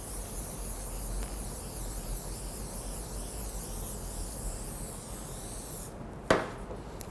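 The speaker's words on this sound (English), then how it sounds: "So we're going to spray the tray." A short hiss of cooking spray misted over a baking tray lined with paper in a pastry kitchen, one quick loud burst standing out near the end of a steady low background.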